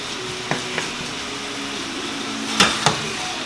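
Pan sauté for chicken marsala, a few sharp clinks and scrapes of a utensil against the pan over a low steady background, no talk.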